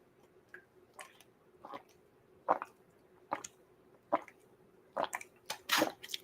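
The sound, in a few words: person gulping water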